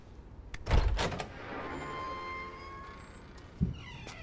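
A door in a video game opening: a heavy thunk and rattle at the start, a sustained creaking, grinding drone, then a closing thud near the end, with no talking.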